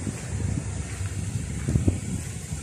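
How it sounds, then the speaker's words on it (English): Wind blowing outdoors near the sea, a low steady rumble and buffeting on the microphone with gentle surges, and rolling waves faintly in the background. "It's been really windy here lately, but the breeze is beautiful."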